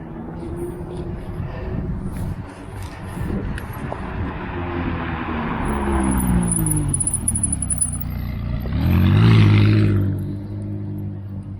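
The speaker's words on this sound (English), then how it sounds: "I hear a car coming." A car on a street in Chelsea, London, approaching with a swelling rumble that grows louder, peaks as it passes close by, then fades, with wind noise over the microphone.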